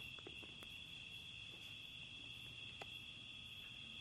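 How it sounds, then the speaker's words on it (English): Crickets chirp in a continuous, steady high trill, with a few soft clicks and taps scattered through a quiet background. "you're hearing the sound of the crickets right now"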